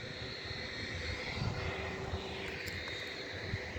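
A large airplane at an airport, its engines giving a steady, fairly distant roar and whine that holds without change throughout.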